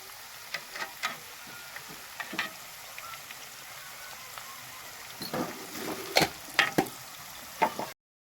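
Diced potatoes and turmeric fry in a home pan while making Gujarati batata poha, giving a soft steady sizzle with scattered crackles and spatters that grow busier toward the end, close and fairly quiet with no talking.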